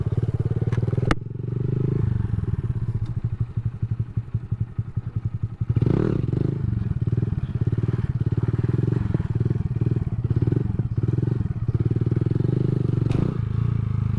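A Honda Grom motorcycle circles steadily through sit-down wheelies, its small engine droning loud and close with rhythmic throttle pulses, brief clatter and thumps, and a sharp crack near the start.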